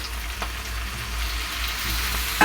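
Tomatoes frying in a pan for paneer butter masala, a steady low sizzle with a couple of faint stirring scrapes, heard alone and fairly quiet.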